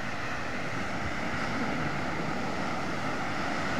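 Ocean surf at a beach in Agoo, La Union, in light rain: a dense, continuous roar of waves and wind, loud and unbroken.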